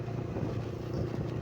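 Motorstar Cafe 150 motorcycle engine running while being ridden, a steady low droning hum with no talking over it.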